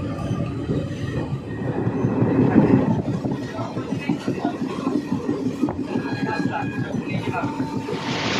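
The Paharia Express passenger train runs from Digha toward NJP, a steady loud rumble of wheels and rattling carriages with rhythmic clatter, and a faint squeal near the end.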